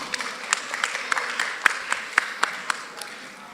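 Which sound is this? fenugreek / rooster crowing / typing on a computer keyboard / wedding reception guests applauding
wedding reception guests applauding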